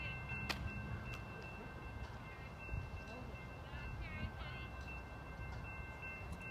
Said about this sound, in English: We have Amtrak San Joaquin coming northbound.